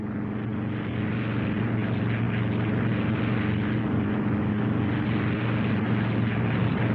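A propeller airplane's engines drone steadily and loudly in flight, a continuous even hum with no voices over it.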